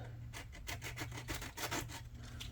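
Sandpaper of 100 grit rubs back and forth over a 1/350 scale USS Enterprise model, scraping off the top layer of paint in a close, steady run of rasping strokes with no talking.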